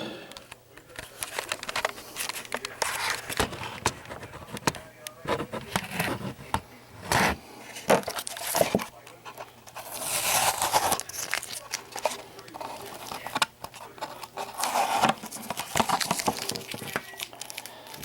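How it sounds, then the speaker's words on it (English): Masking tape peels and crinkles away from the painted surface of a model Cylon Raider, a run of close, uneven tearing and rubbing sounds with short pauses between strips. "I'm going to remove the tape around the perimeter first, and then the masking themselves."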